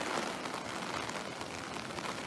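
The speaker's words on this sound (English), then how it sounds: "We do have a lot of rain coming down." Heavy rain pours down during Hurricane Florence, a dense, steady hiss of water hitting surfaces, fairly quiet and continuous with no voices.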